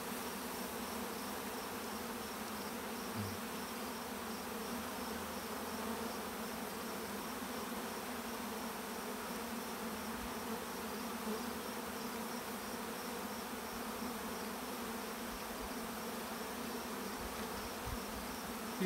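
A steady, continuous honeybee buzz hums throughout, dense and unbroken, many bees droning and fanning close by with no voices.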